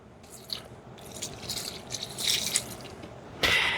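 Water trickles and splashes in uneven pours into ground pork sausage meat for an andouille-style sausage, wet spattering bursts rising toward a louder gush at the end.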